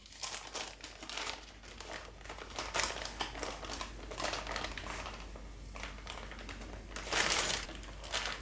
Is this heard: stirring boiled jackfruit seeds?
no